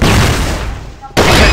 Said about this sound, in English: Fire in the hole. Flash grenade.